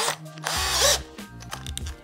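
A wood drill bit is fitted into a drill chuck, giving a brief burst of close, sharp ratcheting clicks and a short mechanical whir, heard alone.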